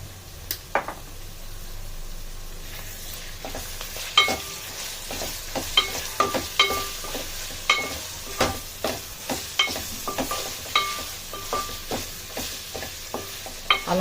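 Ginger garlic paste fries with cooked bitter gourd on a raised flame, a quiet sizzle broken by frequent spatula scrapes and taps against the pan in an irregular rhythm, no talking.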